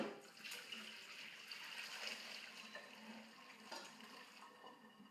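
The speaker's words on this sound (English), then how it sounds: "Drain out the water" Water drained from a pot pours and splashes steadily at low volume, a continuous rushing drain with small clatters.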